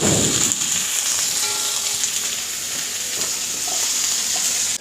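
Curry leaves and small sambar onions fry in hot oil with a loud, steady, close sizzle, a brief burst of spluttering at the start and light stirring throughout.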